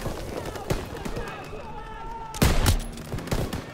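Machine gun fire in the Call of Duty WWII campaign, with bursts of rapid gunshots and heavier blasts in a tense firefight, mixed under game noise and background chatter.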